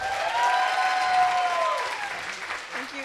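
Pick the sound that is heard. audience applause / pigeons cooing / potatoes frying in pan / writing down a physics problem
audience applause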